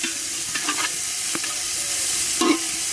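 Marinated chicken meat hits onions already fried deep red in a hot pan, giving a steady loud sizzle with occasional stirring scrapes and no talk.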